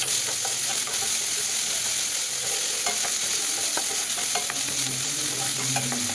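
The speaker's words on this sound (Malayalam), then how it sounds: "ഒരു കടായി അടുപ്പത്ത് വെച്ച് 2 ടേബിൾ സ്പൂൺ സൺഫ്ലവർ ഓയിൽ ഒഴിച്ച് ഒരു നുള്ളം പെരുംജീരകം ഇടുക. അതിലേക്ക് വെളുത്തുള്ളി ഇഞ്ചി അരിഞ്ഞു വെച്ചത് ചേർക്കുക." Chopped garlic and ginger sizzle with fennel seeds in sunflower oil in a kadai, a steady loud hiss broken by scattered scraping stirs and crackles throughout, with no voices.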